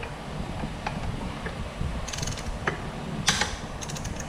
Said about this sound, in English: So I got my torque wrench set to 59 foot-pounds.